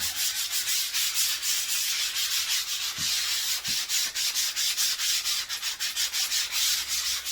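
Hand sanding smooths plaster with a rapid, steady rubbing rhythm of close scraping strokes and two soft knocks partway through.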